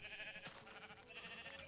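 A Minecraft sheep bleats in a blocky snowy landscape, a couple of short wavering calls standing out over a steady background of game music or ambience, with no talking.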